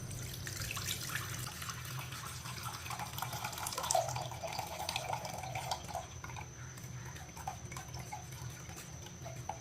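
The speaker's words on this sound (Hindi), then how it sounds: "अब इसे छान लेंगे सारे जूस को।" Raw mango juice trickles and drips steadily through a sieve into a large vessel, a continuous watery splashing with one brief louder spatter partway through, no talk.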